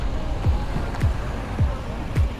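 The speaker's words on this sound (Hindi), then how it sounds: "और ये अलकनंदा नदी।" The Alaknanda river rushes steadily in the background on the route toward Kedarnath, a constant broadband wash broken by a few soft low thumps.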